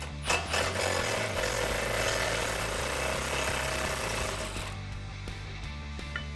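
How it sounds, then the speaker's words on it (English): A power tool rattles and hammers as it removes the 18 mm bolt holding the spindle to the control arm on a Ford Mustang GT350, loud and close, then stops abruptly, leaving faint clicks. "now we're gonna be removing this 18 millimeter bolt holding the spindle to this control arm right here"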